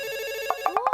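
A mobile phone ringtone plays alone: a sustained electronic tone, then a run of quick, bright repeating beeps that grow more insistent toward the end.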